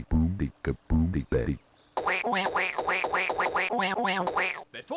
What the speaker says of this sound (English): Looks like a duck.